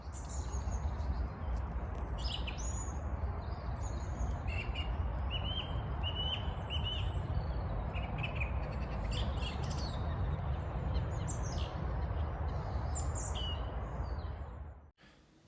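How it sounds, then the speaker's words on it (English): Song thrushes calling in ancient woodland, clear repeated whistled phrases rising above a constant low rumble of wind or distant traffic, with a few other bird chirps mixed in. "song thrushes have returned to our ancient woodlands and started calling"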